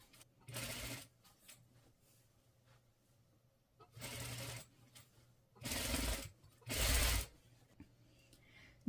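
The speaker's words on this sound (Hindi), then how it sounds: "यहाँ से हम बिल्कुल इसको स्ट्रेट लेकर जाएंगे जैसे कि हम बिल्कुल सीधी सिलाई" A sewing machine stitches a kurti made from a dupatta in a straight line, running in four separate short bursts of rapid whirring, close and moderately loud, with quiet pauses between.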